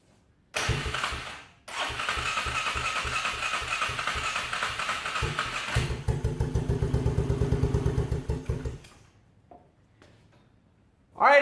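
Homemade side-by-side engine cranking repeatedly, a fast rhythmic chugging that briefly catches and stumbles, pauses, then cranks again at a quicker beat before cutting out, close and loud, ending in a sharp burst.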